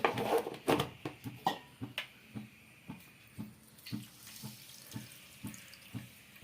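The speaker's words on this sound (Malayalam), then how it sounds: "ഇനി നമുക്കിതിലേക്ക് ആവശ്യത്തിനുള്ള വെള്ളവും കൂടി ഒഴിച്ചു കൊടുക്കാം." Water poured into sugar in a pan to make syrup for milk peda: a short splashing pour at the start, then a steady run of soft, evenly spaced drips, close and fairly quiet, with no talk.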